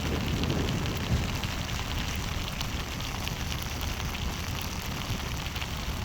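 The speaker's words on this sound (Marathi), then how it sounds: "भयंकर भयंकर पाऊस आहे" Heavy monsoon rain pours down in a dense, unbroken hiss and patter during a road journey, loud and constant throughout, with no speech.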